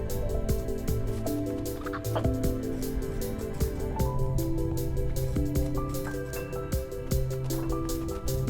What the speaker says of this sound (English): Okay, I can hear the rooster.